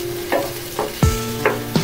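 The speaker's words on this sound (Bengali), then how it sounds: "সবজিগুলো হালকা ভাজতে হবে" Vegetables and green peas are stir-fried in a pan for fried rice, with a soft sizzle under five sharp, evenly spaced spatula scrapes and knocks.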